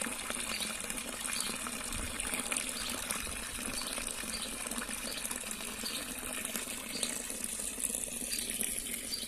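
Steady running water gushes continuously, a broad rushing wash that holds even throughout with no voices.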